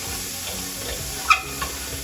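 Chopped onion, bell pepper and celery sizzle in a pan as they are stirred, a steady close hiss with one brief clink of the utensil.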